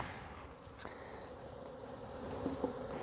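Honeybees from combined hives buzzing softly at a steady, faint level, with a couple of small knocks near the end and no talk.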